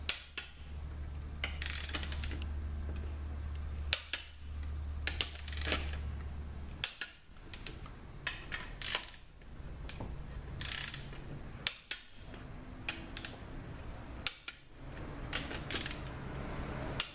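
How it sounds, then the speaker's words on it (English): A torque wrench ratchets and clicks as transmission pump bolts are tightened down to 20 foot-pounds during a 62TE rebuild, with repeated short metallic ratcheting bursts and clicks separated by brief pauses, close and fairly quiet. "these pump bolts are going to get torqued down to 20 foot-pounds"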